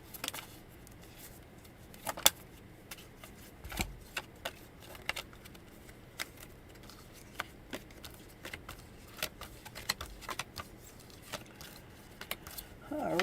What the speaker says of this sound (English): Come on, cards, shuffle up. Do your thing.